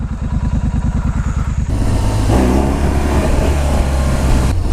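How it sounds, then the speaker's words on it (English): A Ducati motorcycle engine cranks with a rapid rhythmic chugging, then catches and settles into a loud, steady running rumble close by, with no talk. "So I'm going to see if the Ducati will start"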